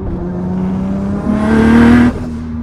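A tuned VW Golf 4 R32 Turbo by Exelixis Motorsport pulls hard, its engine note rising steadily as it accelerates, then dropping slightly as the revs settle, loud and close with no talk.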